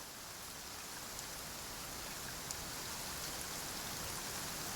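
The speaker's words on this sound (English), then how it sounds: "Rain." Rain falling in the video game Genshin Impact, a soft, steady hiss of raindrops spread evenly at low level, with no voices over it.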